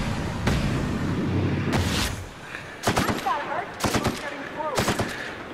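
Automatic weapons fire in The Outer Worlds on PS4: several sharp, loud bursts of rapid shots, some overlapping into a fusillade, followed by shorter separated volleys with brief pauses between them.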